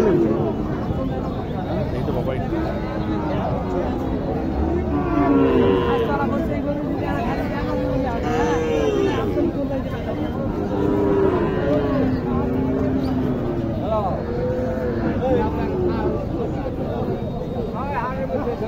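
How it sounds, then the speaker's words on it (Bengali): Sahiwal cattle low at a busy rural cattle market in Naogaon, their moos rising now and then through a constant crowd babble and nearby talk. "দর্শক, এখানে একটি শাহিওয়াল গরু দেখেন।"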